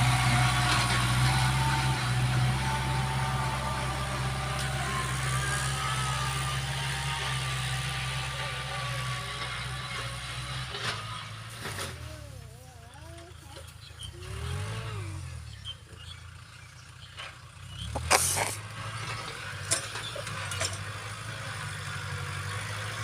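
Farm tractor engine running as it is driven, a steady low drone that dips in the middle and surges near the end, with clunks and rattles over it, close and moderately loud.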